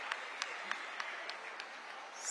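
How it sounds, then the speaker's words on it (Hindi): An outdoor crowd at a government event in Barabanki claps through a scheme award ceremony, thin steady applause heard from a distance, with a few sharper individual claps standing out at regular intervals. "तालियां बजती रहे तो कुछ शोभा बढ़ती रहती है।"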